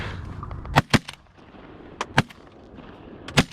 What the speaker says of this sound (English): I'll shoot those from right here.